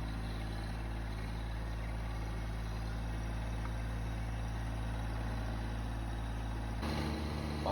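A Massey Ferguson sub-compact tractor engine runs steadily with a low idling drone close by, its tone shifting near the end.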